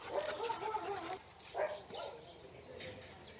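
A dog gives a few short barks and yips during obedience training, heard through outdoor background noise with brief vocal sounds nearby.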